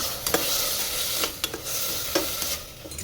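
Tomato frying in a pan for tomato bath: a continuous close sizzle broken by several sharp scrapes and clicks of a spoon stirring, with no talking.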